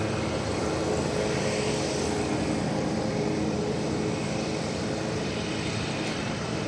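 Airliner arriving at DFW Airport, heard as a steady, fairly faint broadband roar of jet engines at a distance, sustained throughout with no talk.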